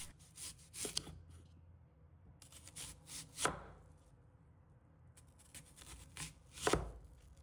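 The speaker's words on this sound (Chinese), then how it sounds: "接下来我们先准备一个白洋葱，把它切成圈。" A knife slices a white onion into rings on a cutting board, with a few spaced, crisp cuts and soft handling noises between them.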